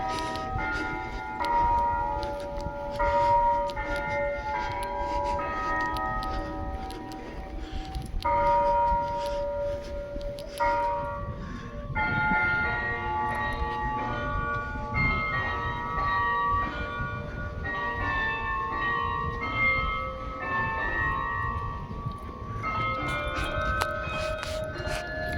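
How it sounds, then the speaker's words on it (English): Church bells ring repeatedly in overlapping peals at a fair in Aguascalientes, Mexico, resonant tones layering and decaying, steady and fairly loud for the whole stretch with no talking. "You hear the bells."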